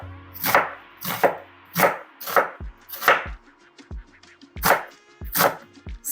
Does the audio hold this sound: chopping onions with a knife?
yes